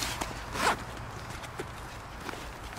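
A zipper is pulled open on the main compartment of a Maxpedition Kodiak Gearslinger backpack in a quick, scratchy run, with soft handling rustles afterward and no talking.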